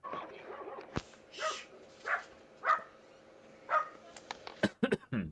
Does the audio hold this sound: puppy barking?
yes